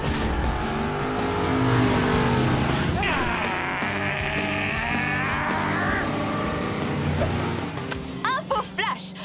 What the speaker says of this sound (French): La plus grande course-poursuite de toute l'histoire de Hot Wheels City vient de commencer!